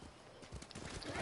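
A horse in the video game Ghost of Tsushima gives a few soft, rhythmic hoof clops, faint and fairly close, with game ambience growing louder toward the end.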